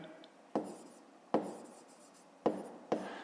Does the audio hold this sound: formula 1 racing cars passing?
no